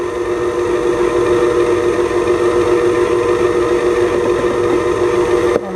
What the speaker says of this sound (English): I got the mixer going on a low speed